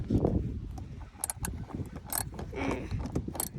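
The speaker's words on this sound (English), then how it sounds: "Now we're gonna loosen up the next screw." A tool works a screw loose on a Nissan interior door handle, giving several close, sharp mechanical clicks and ratcheting bursts separated by short pauses, with low handling rustle between them.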